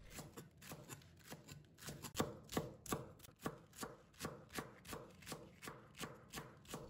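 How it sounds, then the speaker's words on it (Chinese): A knife shreds cabbage into thick strips on a cutting board with a brisk, steady series of close chopping thuds, each stroke distinct and evenly paced, and no one speaking. "再改刀切成粗粗的细丝"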